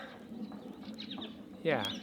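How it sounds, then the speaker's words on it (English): Birds chirp outdoors on a spring day in the mountains as snow melts, with faint twittering calls over a soft background and a louder, sharper call near the end. "It's really amazing to hear the birds."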